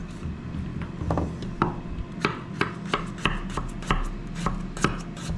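A knife slicing potatoes thinly on a cutting board, with a quick series of crisp, close chopping taps at a fairly regular rhythm.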